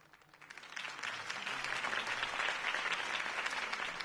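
A large crowd applauds a campaign speech by Harvey Dent, a steady dense wash of clapping that swells after a quiet start and holds loud throughout, with no voices over it.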